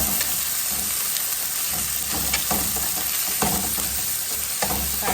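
Peppers sizzle and fry with onion in a hot pan, a steady close crackling hiss with occasional stirring clicks and no talking.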